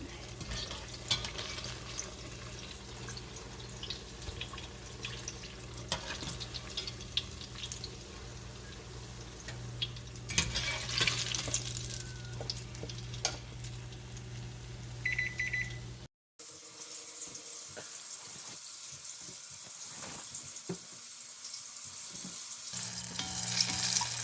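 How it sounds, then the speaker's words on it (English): Apple fritters frying in hot oil give a steady, crackling sizzle throughout, with a brief cut partway and louder bubbling toward the end, no voices. "this is the last batch, last 3 fritters cooking"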